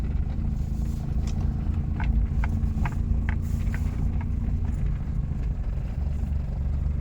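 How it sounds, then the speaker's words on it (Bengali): A manual car pulls away and drives slowly, its engine a steady low drone with faint intermittent clicks and rattles, no talking. "তো আমরা এবার গাড়িটা চালাচ্ছি"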